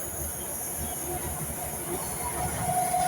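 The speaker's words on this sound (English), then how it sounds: "Here comes a Class 70." A Class 70 diesel locomotive hauling a log train approaches at Lancaster, giving a steady, continuous rumble with a thin high whine and a brief tonal squeal near the end.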